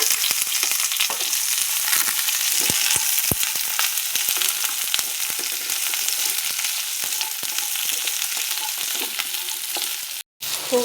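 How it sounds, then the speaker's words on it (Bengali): Chopped radish and eggplant frying in a pan, with a steady crackling sizzle throughout and scattered scraping stir sounds. It is close and moderately loud, breaks off briefly near the end, and no one talks. "খুব বেশি ভাজবো না,"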